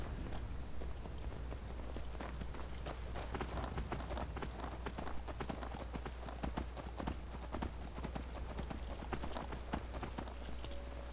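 Horse hooves clip-clop steadily and quickly while riding toward Solitude in the Skyrim video game, a continuous close trotting rhythm under a low constant drone with no talk.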